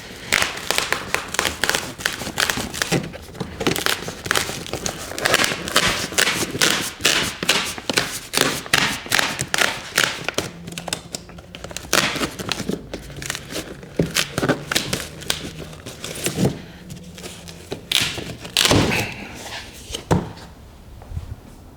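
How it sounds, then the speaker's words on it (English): Glued tabs are torn off a cardboard box in a quick series of sharp ripping and crinkling bursts, close and loud, with a few short pauses between pulls. "so this has the tabs, but it's also glued, so we'll have to tear that glue off"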